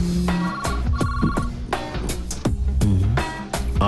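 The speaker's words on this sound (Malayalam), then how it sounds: "phone anti phone" A telephone in a household rings loudly and close by, playing a melodic ringtone of repeated bright tones that continues without any voices over it.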